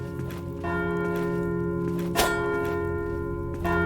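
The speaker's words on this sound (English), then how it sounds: "There's a bell." A deep, resonant bell tolls in the indie video game Echoblade, with a steady sustained hum and one brighter strike midway that rings out over the background.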